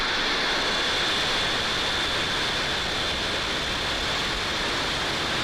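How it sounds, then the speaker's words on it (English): A SpaceX rocket lifting off at full power on a OneWeb launch gives a constant, dense roar that fills the whole stretch without a break or any speech. "Just full power. And liftoff. OneWeb 3."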